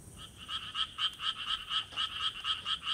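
Tree frogs croak in a dense, rapid chorus at a valley reservoir at night, the pulsing calls repeating steadily and fairly close with no voices.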